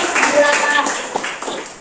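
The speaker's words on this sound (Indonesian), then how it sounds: "Tepuk tangan sekali lagi buat teman-teman yang sudah mulai" Classmates in a school classroom clap for peers, a short burst of close, uneven handclaps blended with chatter and voices throughout.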